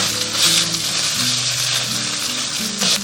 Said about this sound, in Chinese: 有了以后，我们下入肉丝